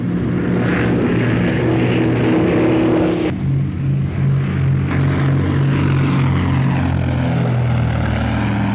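Wartime propeller aircraft in flight, a 2,000-horsepower Australian warplane engine, droning loud and close with a steady throb and a shift in tone partway through, no talk over it.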